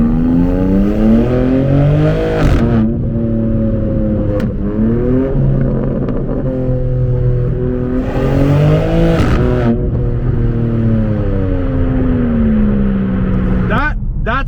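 A BMW G82 M4 Competition accelerates hard through several gears, its engine rising and falling in loud, rough sweeps with sharp shift breaks, heard from inside the car.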